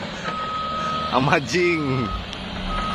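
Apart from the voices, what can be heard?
remote control truck reversing beeps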